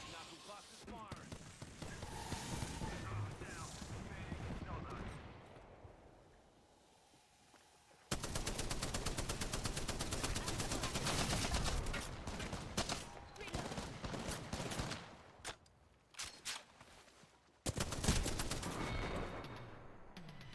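Knuckle cluster gun in a video game letting off dense bursts of rapid gunfire, with loud sustained barrages broken by brief lulls and a final heavy burst.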